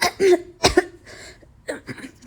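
A woman recovering from a fever gives a few sharp coughs and throat clears in quick succession, close to the microphone, with brief speech between them.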